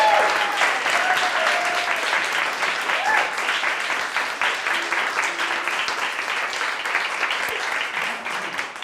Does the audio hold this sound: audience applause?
yes